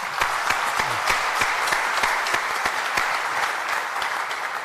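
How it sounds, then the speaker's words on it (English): An audience at a campus conversation event at IIM Bangalore breaks into a dense, continuous round of applause, loud and sustained with no break. "Round of applause, ladies."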